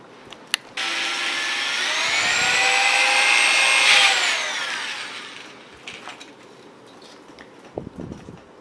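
A power drill whines steadily for several seconds, its pitch rising and falling as it bores holes into a Nerf blaster, then stops, leaving quiet handling clicks and clatter.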